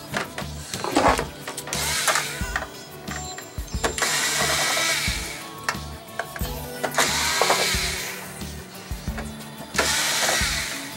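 Screwdriver backing four screws out of the metal top cover of a Blu-ray/DVD player with a stuck disc tray, giving repeated close ratcheting, clicking bursts in a steady rhythm across the whole stretch, with no talking.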